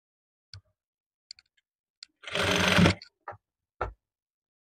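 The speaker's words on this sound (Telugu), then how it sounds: "లైన్ తీసేసుకొని మనం స్టిచ్ చేసుకుందాము ఇలా సైడ్కి" A sewing machine stitching the side seam of a cotton summer frock runs in one short, steady burst of about half a second, surrounded by sparse isolated clicks and taps in an otherwise quiet room.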